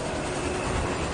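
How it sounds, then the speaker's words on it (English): A train racing past, a loud continuous rumbling roar of rail wagons that stays close and steady for the whole brief moment. "Imagine a train racing past, faster than any train you've ever seen."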